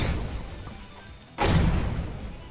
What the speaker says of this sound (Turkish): Güzel patladık.